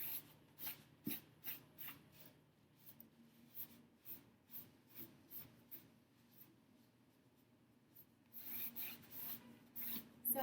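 A sponge rubs a chalk paint wash across wooden furniture in quiet, repeated scrubbing strokes, short rhythmic rasps with pauses between them, close and soft, growing a little busier near the end.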